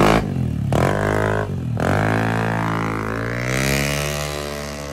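A motorcycle with a full CVT setup is test-run in a workshop, its engine droning loud and close with two quick throttle dips before settling into a steady, rising rev.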